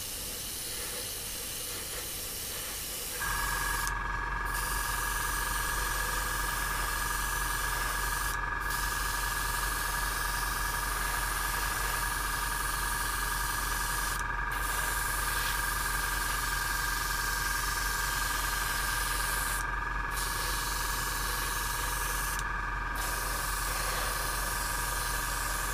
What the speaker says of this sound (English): So although there's only like small particular places where the decals have got to go on here, I always blanket spray the aircraft